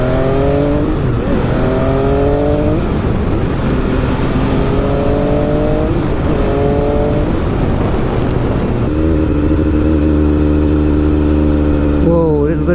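MV Agusta F3 motorcycle ridden on a winter road, a loud close engine repeatedly revving up through the gears with steady wind roar, a rider talking over it.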